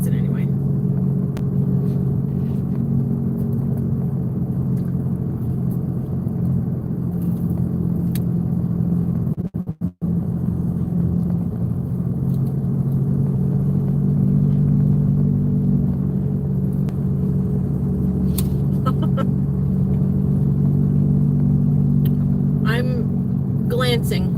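A car cruising along hilly Arkansas roads outside Branson, heard from inside as a steady low engine and road rumble throughout, with a brief dropout partway and occasional faint clicks.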